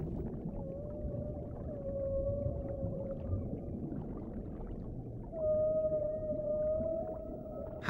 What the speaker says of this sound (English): The humpback song is a powerful form of communication.